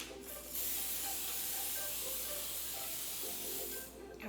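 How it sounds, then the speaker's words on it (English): Cooking spray hisses onto parchment paper in one steady burst lasting several seconds, close by and fairly quiet, ending with a short pause. "I'm going to get my parchment paper sprayed up."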